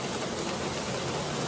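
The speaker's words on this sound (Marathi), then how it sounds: "बाहेर एवढ्या जोराचा पाऊस पडतोय" Heavy monsoon rain pours down steadily outside a home kitchen, a dense, continuous hiss with no breaks or voices.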